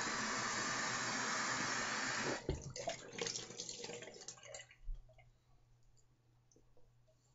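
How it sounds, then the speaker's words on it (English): Cold tap water runs steadily and loudly from a bathroom faucet for a rinse after a wet shave, then cuts off into splashing and dripping as hands and face are rinsed. "Cold water rinse."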